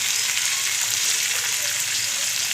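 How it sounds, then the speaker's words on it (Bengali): Potatoes and a medium tomato fry in a pan with a steady, close hiss and crackle of hot oil throughout, with no voices. "এর মধ্যে একটা মাঝারি সাইজের টমেটো দিয়ে দিলাম। দিয়ে ভালো করে ভেজে নিই।"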